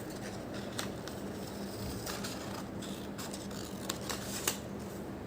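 Scissors snip out mosaic coaster pieces in a series of short, sharp cuts spaced unevenly over steady background hiss, close and fairly quiet.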